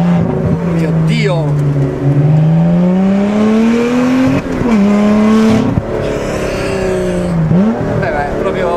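Close and loud, the V6 engine of a Lotus Exige 350 Sport revs and pulls through rising and falling pitch sweeps with gear-change breaks, while a voice speaks over it.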